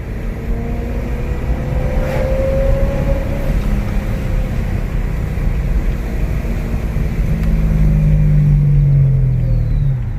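Supercharged BMW E92 M3 engine pulls hard at full throttle, a loud sustained drone with rising whine as revs climb, swelling louder near the end.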